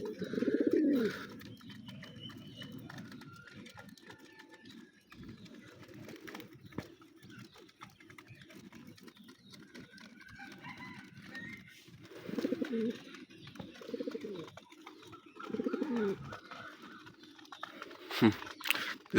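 Low, soft pigeon cooing repeats throughout over a faint rustling background, with occasional chirps and brief louder coos near the end.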